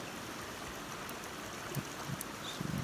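Steady, soft rushing of a mountain valley stream beside a campsite at Deokpung Valley, Samcheok, continuous and even throughout, with a few faint thuds near the end.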